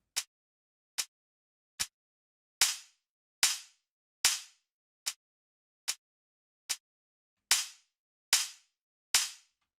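Snare drum hits in a mix, alternating between gated and ungated versions: twelve sharp, dry cracks spaced about 0.8 seconds apart, some cut short and others ringing out with longer decay, with no talking.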